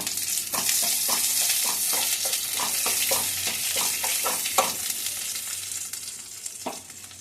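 Crushed cardamom pods sizzling in hot oil for carrot halwa, a continuous bright frying hiss under rhythmic scraping stirs of a spoon against the pan, close and steady.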